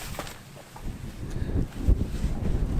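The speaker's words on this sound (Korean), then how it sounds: "바람 불다" Outdoor wind gusts buffet the microphone in a coastal village, a low rumbling rush that swells and eases with no clear voices.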